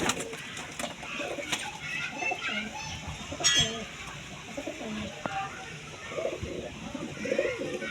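Many pigeons coo steadily inside a pigeon coop, their layered calls overlapping in a busy, close-up chorus with faint background voices and activity.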